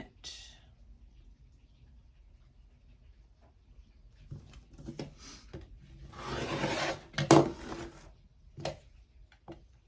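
Quilt fabric for a block-of-the-month project is trimmed with soft rasping cuts that build to a louder scraping flurry midway, followed by a few sharp taps, fairly close and faint overall.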